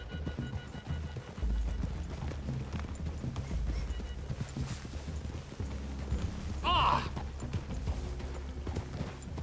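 Horses' hooves clip-clop at a walk through a wooded clearing in a Western scene, with a brief whinny and a short shout over the steady hoofbeats.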